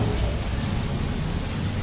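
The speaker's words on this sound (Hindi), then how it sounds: "अरे बारिश भी आ गई" Rain beginning to fall outdoors at a home, a dense steady hiss of drops on surfaces filling the short stretch at even, fairly loud level with no pauses.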